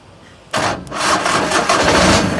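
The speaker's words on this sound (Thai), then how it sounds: "ฟังเสียงเครื่องยนต์นะครับ" A used three-cylinder farm tractor diesel starts abruptly after a moment of quiet, then runs loud and steady close by with a rough rattling idle; there is no talk.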